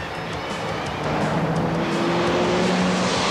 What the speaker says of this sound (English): With Gordy pushing from behind, it's tough to keep the car moving.